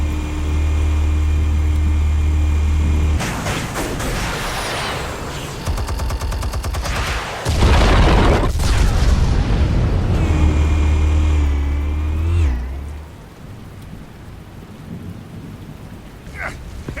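Heavy explosive blasts from Batman: The Telltale Series erupt in loud, rumbling bursts over a deep droning hum, with crackling debris between detonations before the noise drops away near the end.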